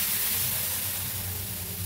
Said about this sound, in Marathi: डोसा अशा प्रकारे टाकायचा